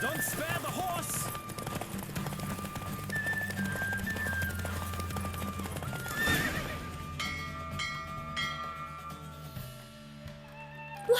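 Horse in The Witcher 3 video game, heard as rapid hoofbeats and whinnies during a race, mixed with wind rush, music and game sounds, with a voice speaking briefly over it.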